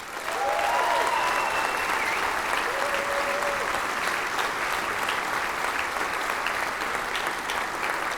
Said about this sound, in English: applause as he walks out.